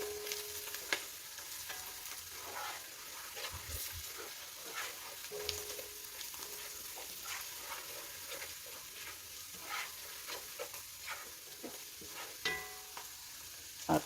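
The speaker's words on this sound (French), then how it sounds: "je continue à remuer" Beef bourguignon with added thyme sizzles softly in a pot as it is stirred, giving a steady close simmer with scattered light scrapes and clicks throughout.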